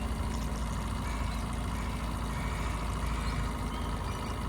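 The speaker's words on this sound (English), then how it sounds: "There's the Yamaha 8 horsepower running like a brand new motor" Yamaha 8 horsepower outboard motor on a skiff, fitted with a replacement carburetor, running steadily at a constant drone with a low rumble, loud and continuous without any talk.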